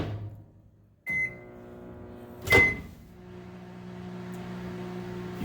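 Countertop microwave oven running after a turntable repair, a cup turning on the plate. A sharp clunk and a short beep are followed by another louder thump, then a steady low motor hum and a faint whir continue on their own.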